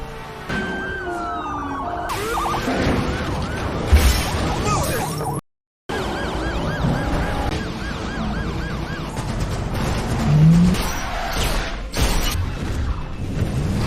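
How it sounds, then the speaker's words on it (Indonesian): A police car siren wails through an action film car chase from Run All Night, loud and continuous amid whooshes and crash impacts, with no talk. "Tapi Jimmy menabrak mobil polisi itu dan terjadi kejar-kejaran."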